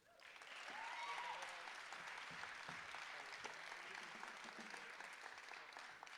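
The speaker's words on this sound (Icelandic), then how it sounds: "það má nú bara heldur betur klappa fyrir því" Sustained audience applause fills a hall at an Icelandic band competition's qualifying night, a dense wash of clapping that swells within the first second and holds steady to the end, with a faint voice or tone briefly audible early on.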